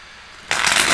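Tarot cards are shuffled in a single brisk, close riffle that starts halfway through and runs to the end after a quiet lead-in.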